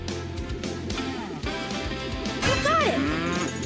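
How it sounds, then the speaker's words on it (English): Cartoon cows moo in the PAW Patrol Rescue World video game, a few drawn-out lowing calls over a busy game music bed, with a brighter rising tone near the end. "Sky, let's find those cows for Farmer Al."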